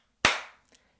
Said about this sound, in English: that's a perfect clap